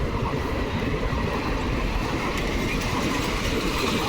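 The Agartala to Guwahati Express passes through Kanaibazar railway station, a continuous loud rumble of wheels and carriages with rhythmic clickety-clack on the rails and no talk over it.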